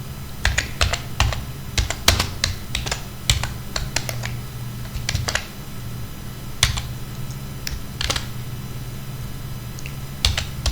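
Steady typing on a computer keyboard while writing I2C code, a close run of sharp key clicks in uneven bursts with brief pauses, over a low constant hum.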